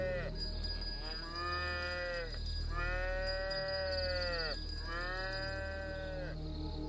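A cow moos in long, drawn-out lowing calls, three clear bellows separated by short pauses, near and prominent over a low background rumble, used as a sound effect in a children's horror story.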